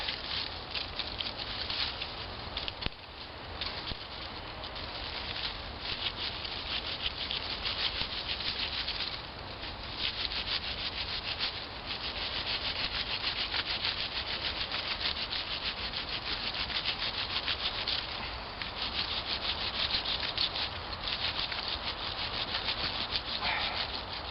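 A bow saw cuts through pine outdoors with a continuous rasping rhythm of back-and-forth strokes, close and steady throughout, without talk.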